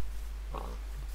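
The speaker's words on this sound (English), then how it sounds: "Oink. Oink." A single short pig oink in Minecraft, faint and brief over a steady low background hum.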